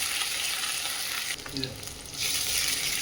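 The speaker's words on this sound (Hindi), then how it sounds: "अब इस वोक में हम थोड़ा सा तेल ऐड करेंगे और हमारे क्रश किए हुए लहसुन डाल देंगे।" Steady loud sizzling of crushed garlic in oil frying in a wok, with a brief dip and a few clinks of stirring midway before the sizzle swells again.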